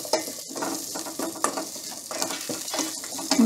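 Chopped onion hits hot oil with frying garlic in a pan, giving a loud, continuous sizzle broken by scraping stirs and a few utensil knocks, with no voices.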